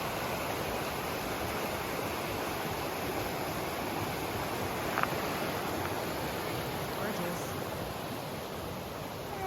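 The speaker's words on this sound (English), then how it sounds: "Getting back down by the creek. It's a beautiful creek." Creek water flowing along a hiking trail in Colorado, a steady broad rushing wash that stays even and continuous throughout, with no talking over it.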